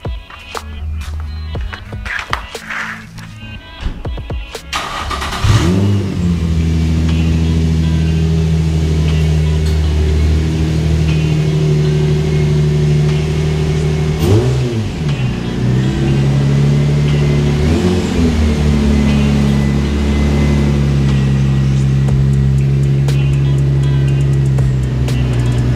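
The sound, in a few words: car engine driving into garage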